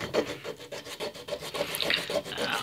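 A Jim Dunlop plastic guitar pick rubbed vigorously back and forth on a whetstone makes a close, rhythmic scraping rasp with quick repeated strokes throughout.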